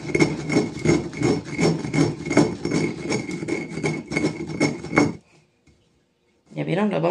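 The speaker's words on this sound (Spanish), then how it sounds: "el procedimiento de moler en el molcajete" A stone pestle grinds in a volcanic stone molcajete with steady, rhythmic scraping strokes, loud and close. About a second of near silence follows, then someone speaks.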